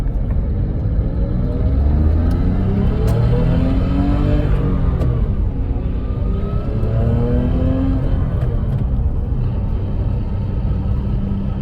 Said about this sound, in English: it makes a little bit of noise because it is a lightweight flywheel system